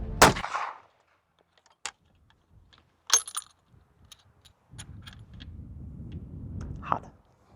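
A homemade gun test-fired once, a single sharp loud report at the start followed by quiet rattles, metallic clinks and a brief second burst, then low handling noise as someone talks.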